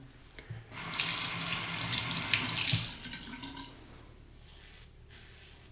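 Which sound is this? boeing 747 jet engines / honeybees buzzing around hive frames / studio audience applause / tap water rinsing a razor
tap water rinsing a razor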